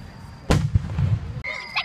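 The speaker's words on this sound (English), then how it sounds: "So in Japan you get a lot of different fireworks." Fireworks burst at a Japanese fireworks festival: a sharp, loud boom followed by crackling rumble, then fainter high-pitched whistling or fizzing shells toward the end.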